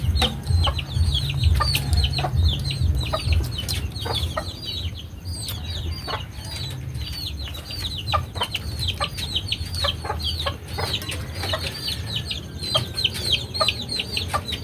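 Several chickens cluck and squawk in quick, overlapping bursts, fairly close, with a steady low hum underneath.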